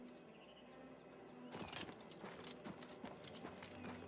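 Horse hooves clip-clop in the video game Oblivion Remastered, a steady run of fairly loud, close hoofbeats starting suddenly after a quiet stretch of ambient outdoor sound with faint birds.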